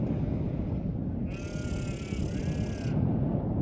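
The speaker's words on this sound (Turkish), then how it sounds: "Galiba onların koyunları da şu karşıda yayılıyor." Drawn-out bleating of sheep out in the open, fairly distant, over steady wind-like background noise.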